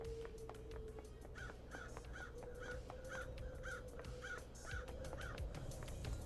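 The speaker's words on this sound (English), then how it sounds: "Damn crows." Crows caw in the video game Paradise Killer, a regular run of about nine harsh caws spaced roughly half a second apart over a low ambient hum and soft background tones.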